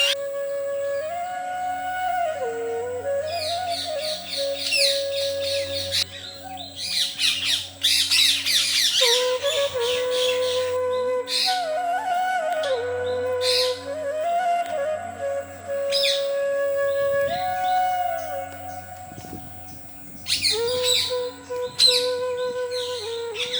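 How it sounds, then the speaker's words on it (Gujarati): Harsh, repeated parrot squawks with whistled calls, loud and near, coming in bursts over a steady background hum. "ત્યાં સુધી પોપટની રમત જોઈશું."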